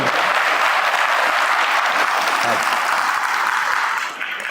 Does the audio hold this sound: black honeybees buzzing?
no